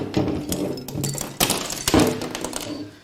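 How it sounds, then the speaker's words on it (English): Hammer blows striking a metal cylinder head from a failed Honda Odyssey J35Z8 engine, several sharp clanking hits at irregular intervals with some ringing. "nothing is better than beating a cylinder head with a hammer"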